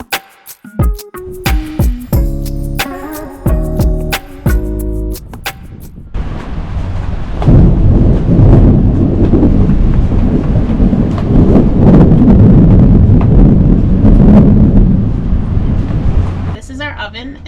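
Thunderstorm with wind and rain at an anchorage while cruising the ICW by boat. Tonal, music-like sounds come first, then a loud, steady roar of wind and rain with low rumbles that lasts to the end.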